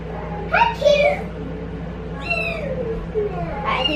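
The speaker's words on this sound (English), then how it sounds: "we'll introduce you to our new baby kitties" Several high, thin meows from newborn farm kittens, three or four short cries spaced apart, close by, over a low background hum.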